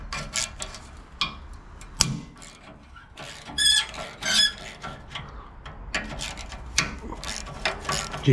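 A ratchet wrench works bolts loose to pull an air compressor off a diesel unit, giving irregular bursts of clicking pawl ticks and metallic clanks, close by, with pauses between runs.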